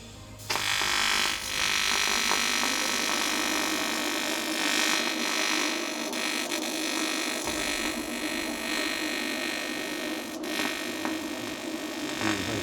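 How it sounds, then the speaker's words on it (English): A TIG welder heats a cracked alloy wheel with a steady, close buzzing hiss that holds for several seconds without a break, and no one speaks. "I'm going to heat up the wheel and burn out any contaminants that's in the wheel before I start adding filler"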